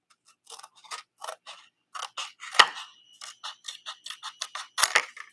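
Scissors snip through card in a run of short, crisp cuts, close and fairly quiet, with a brief sharp click partway through and a louder snip near the end.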